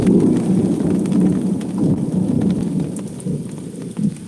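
Steady rain from a thunderstorm, with low rumbling thunder swelling and fading throughout, heard close and fairly loud from inside a hot car, with no voices.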